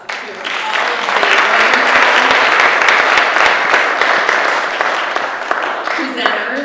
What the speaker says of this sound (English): let's give another round of applause to all